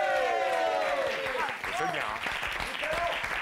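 Studio audience applause filling the room in a dense, sustained wash of clapping and cheering, with a voice speaking over it briefly.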